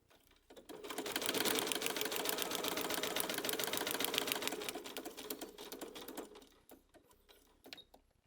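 A sewing machine runs steadily for about five seconds, stitching through a quilt seam allowance with a rapid, even mechanical patter before it slows and stops, followed by a few faint clicks.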